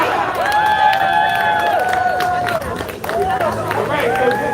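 A crowd at a Boston school protest over special education services claps and cheers, with raised voices and shouts running through steady, close clapping.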